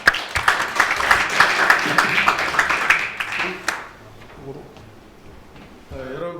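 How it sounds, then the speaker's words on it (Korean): Audience at a symposium on everyday carbon emission reduction claps loudly and steadily to welcome a speaker, then the applause fades out into room noise and a voice begins at the end. "큰 박수로 맞이해 주시기 바랍니다"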